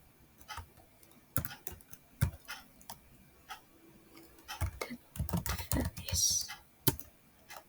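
Quick clicks and taps on a computer keyboard come in uneven bursts, fairly close and quiet, with a few denser flurries of keystrokes toward the end.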